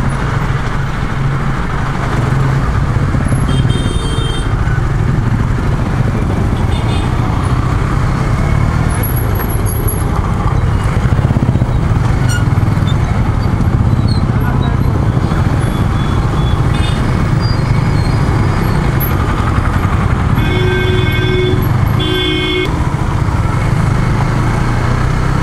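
Steady road traffic at a junction rumbles continuously: engines and tyres blend into a loud, constant drone, with occasional higher horn-like or engine tones poking through and no talking.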